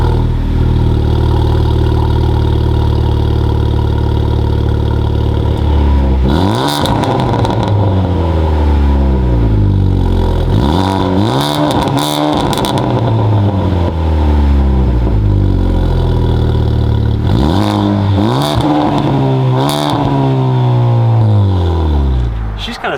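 A tuned JDM car with an MA Performance downpipe and a Pure Turbos turbo upgrade fires up, idles briefly, then barks through a series of sharp, loud throttle blips with falling decays, heard up close.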